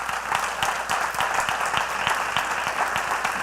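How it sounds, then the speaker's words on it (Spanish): Church congregation applauding during a Sunday service, a steady, fairly loud wash of clapping with rhythmic claps standing out and holding throughout. "Dale un aplauso al Señor"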